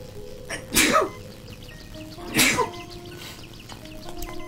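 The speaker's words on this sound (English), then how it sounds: "I'm gonna sneeze." Two sharp human sneezes indoors, spaced about a second and a half apart, loud and close against a quiet room background.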